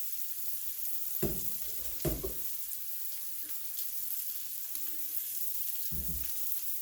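Homegrown mushrooms frying in butter in a pan on an electric stove give a soft, steady sizzle, broken by a few louder bursts as they are stirred or shifted.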